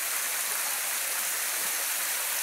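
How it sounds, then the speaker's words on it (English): Steady broadband rush of a waterfall, even and continuous at moderate distance, with no voices or other sounds over it. "Oh, wait, no. It's a waterfall."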